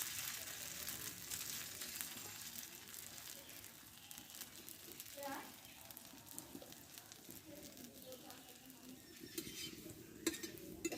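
Flour snacks deep-frying in hot oil give a steady, soft sizzle throughout, with occasional light stirring and utensil clinks nearby.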